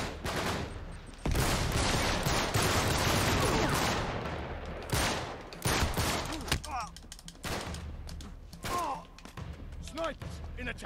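Sniper and rifle fire in the Uncharted 3 tower fight rings out in sharp bursts of shots over a dense, continuous battle din. Voices talk over the shooting in several places.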